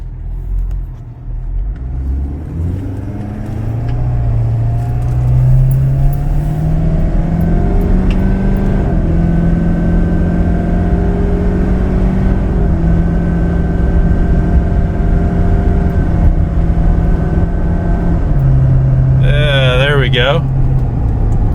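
2019 Ford F-250 with the 6.7L Powerstroke diesel pulling at moderate throttle, a steady rising rumble heard from the cab that steps through several smooth gear changes, with a brief squeal near the end.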